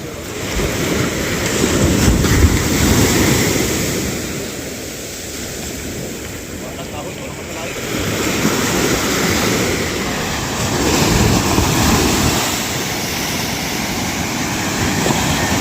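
Large sea waves crash onto the shore in a continuous roar that swells and eases in slow surges, with heavy wind buffeting the microphone.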